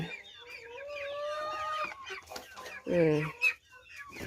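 Backyard laying hens and young black-and-white Barred Plymouth Rock chicks cluck and call in a rural yard, a close, busy run of rising and falling calls with a louder burst near the end and no talk.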